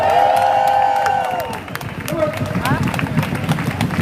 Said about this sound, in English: Big round of applause for him, everybody!